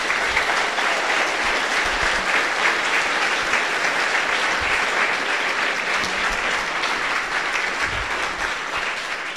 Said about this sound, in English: So can we have a round of applause for all our sponsors here?